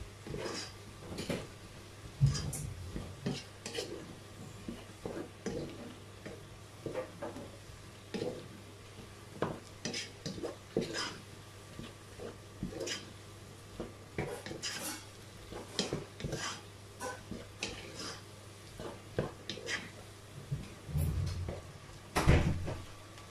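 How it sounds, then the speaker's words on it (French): Sugar and sliced bell peppers stirred in a pan for a Chinese-style pork chop dish, with repeated scraping and clinking of a utensil against the pan over a low steady hum, close and moderately loud. "le sucre commence à rendre un peu son jus avec les poivrons. Et là, vous commencez à remuer."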